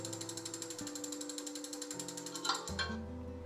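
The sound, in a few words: spinning giveaway wheel ticking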